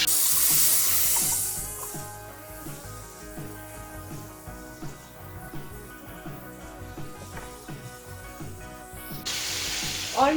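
Chopped tomatoes added to a hot pan for yakhni pulao sizzle loudly and steadily, a close continuous frying hiss with some stirring clatter, swelling again near the end.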